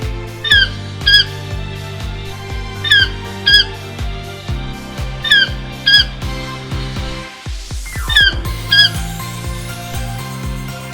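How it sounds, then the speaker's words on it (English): A peacock calls again and again, in loud paired shrill cries that rise sharply. They repeat at a steady rhythm over a bright background melody. "Peacock."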